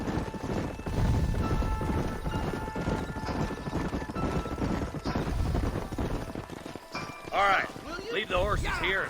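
Horse hooves clip-clop steadily in Red Dead Redemption, with several horses moving together at a walking pace under game music and character voices speaking.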